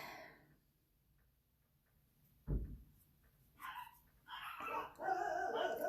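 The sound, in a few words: dogs barking at neighbors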